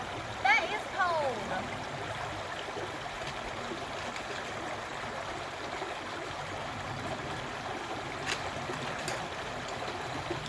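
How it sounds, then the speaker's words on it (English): Hikers on the Bartram Trail wade across a cold river, the water rushing steadily with faint splashes, and a voice speaks briefly near the start. "We had to do this river crossing at the end of the day."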